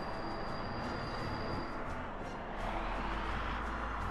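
Train rumbling along tracks in the Soviet-era city-building game Workers & Resources: Soviet Republic, a steady dense rolling noise with faint tonal whine, continuous and moderately distant.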